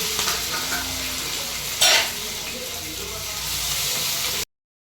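Mustard seeds, green and dried chillies, curry leaves, asafoetida and chana dal spluttering in hot oil, a steady loud crackling sizzle with one brief sharper burst partway through, then sudden silence.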